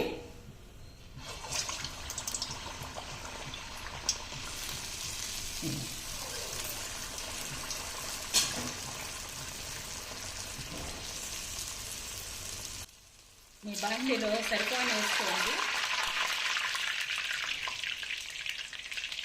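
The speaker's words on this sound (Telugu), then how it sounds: "ఇప్పుడు స్టవ్ వెలిగించుకొని బండి పెట్టుకొని డీప్ ఫ్రైకి సరిపోను ఆయిల్ వేసుకోండి ఇందులో ఇప్పుడు గారెలు వేద్దాం" Garelu, lentil fritters, deep fry in hot oil with a dense, steady sizzle and crackle. It drops away briefly near the end, then returns louder and brighter.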